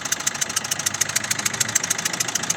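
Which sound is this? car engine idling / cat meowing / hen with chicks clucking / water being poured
car engine idling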